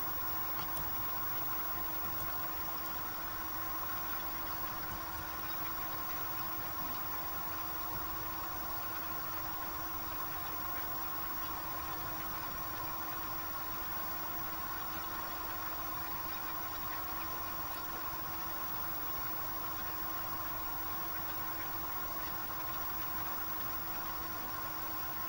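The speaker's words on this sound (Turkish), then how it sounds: "traktör küçük olduğu için çok yavaş gidiyor" A small tractor engine in Farming Simulator 2015 drones steadily and low without change, with a constant mechanical whine layered over a hissy background and no voices.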